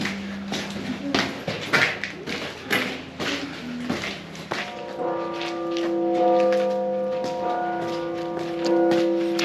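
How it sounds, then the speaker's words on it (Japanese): Cathedral bells ring with sustained, overlapping tones from a distance during a night walk by city walls in Europe, swelling after an earlier stretch of footsteps and clatter, continuing steadily to the end. "先ほどの聖堂の方から鐘の音が聞こえてきますね。"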